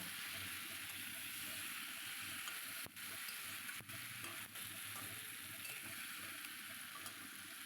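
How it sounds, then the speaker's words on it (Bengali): Tangra fish stirred and fried with spices in hot oil, a steady quiet sizzle with a few soft scrapes of the spatula against the pan. "এবার মশলার সঙ্গে একটু ভালো করে নেড়ে নেব মাছটা"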